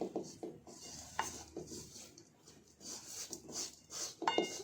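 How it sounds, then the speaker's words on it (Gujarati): Spice filling for Rajasthani stuffed chillies, mixed with lemon juice in a bowl, gives soft irregular scraping and stirring with a few light clinks of a spoon against the bowl, close and fairly quiet. "હવે આ બધી સામગ્રીને આપણે મિક્સ કરી દેવાની"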